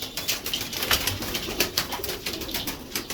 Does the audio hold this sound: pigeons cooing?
yes